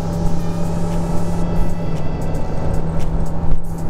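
A Suzuki DF140B outboard engine pushes a Focchi 640 boat above 5000 rpm, giving a loud, steady high-revving drone with rushing wind and water, close and constant throughout.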